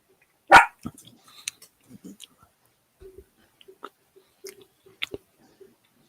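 A dog barks once, loud and close, followed by scattered softer sounds like a few light yips or movement, in an indoor setting with some quiet voices.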